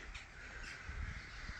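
Crows cawing repeatedly in a garden at sunrise around 6 a.m., harsh calls rising over a steady bed of other birdsong and outdoor ambience, fairly loud and continuous with no talking.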